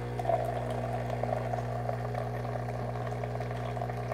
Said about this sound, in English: simply flip on your hot water